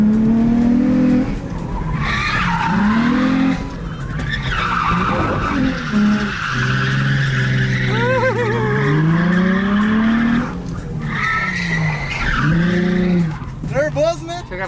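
Nissan 350Z in a handbrake drift, tires skidding and squealing loudly in repeated sliding sweeps with the engine rising and falling, close by, with people's voices mixed in.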